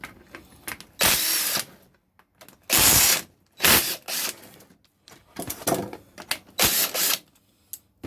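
An impact wrench with a 10mm socket busts bolts loose while a fuel rail is being removed, firing in several loud, close bursts of a second or less, separated by quieter handling and tool noise.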